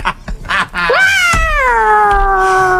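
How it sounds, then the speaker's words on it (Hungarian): Mating cats caterwaul with one long, loud, wailing yowl that rises and then slowly falls, preceded by a few short cat calls and rustling. "kiderült, hogy a macskák pároztak, és azok kihabálták"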